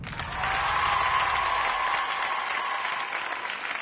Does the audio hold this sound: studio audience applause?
yes